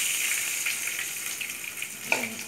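Pieces of dough frying in hot oil over high heat, a steady bright sizzle and crackle throughout with a few louder pops and a brief splash near the end.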